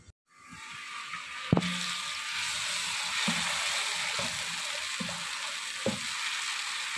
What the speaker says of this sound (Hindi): भून लेंगे थोड़ा सा थोड़ा सा नहीं यानी कि अच्छी तरह से भून लेंगे इसका कलर भी आ जाएगा